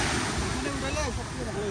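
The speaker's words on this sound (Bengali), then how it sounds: "সমুদ্রের শব্দ" Sea waves wash onto a Sri Lankan beach with a continuous surf rush and wind, heard close and fairly loud for a brief moment.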